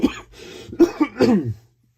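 Someone flipping through an 80s UK graffiti book gives a short burst of coughing and throat clearing, three or four rough, close barks over about a second and a half before going quiet.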